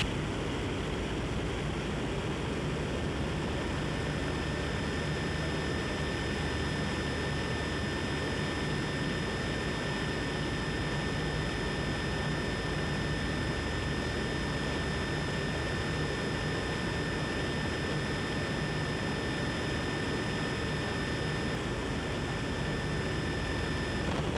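A Lockheed P-38 Lightning in flight gives a steady, unbroken engine roar and broad rushing noise that stays even throughout, heard from inside or near the aircraft with no talking.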